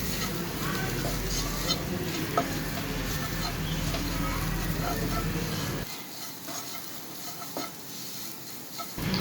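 Coriander powder and chili powder sautéing in a pan for a potato cutlet, giving a steady close sizzle with light stirring scrapes that thins out toward the end.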